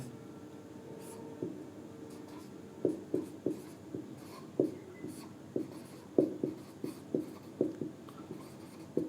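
Chalk taps and strokes on a classroom board in quick irregular bursts, close and clear, with faint room noise beneath.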